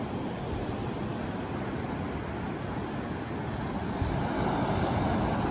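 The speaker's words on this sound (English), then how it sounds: "the only noise you can hear is the sound of the waves" Ocean waves on a beach on a cloudy morning, a constant broad roar of surf with slight swells, steady and fairly loud, with no voices.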